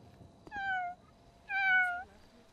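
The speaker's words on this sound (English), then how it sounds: "That was a high-pitched meow." A cat gives two distinct high-pitched meows, each about half a second long, close and clear against a quiet background.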